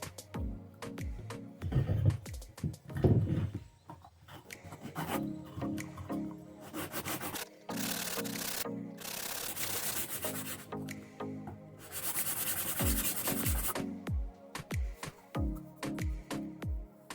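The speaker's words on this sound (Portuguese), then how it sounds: "agora a gente vai dar uma lixadinha aqui para ficar certinho" A cut piece of PET plastic bottle being sanded by hand for a homemade vacuum pump: rhythmic scratchy strokes, some short and quick, others long sustained passes, close and fairly quiet.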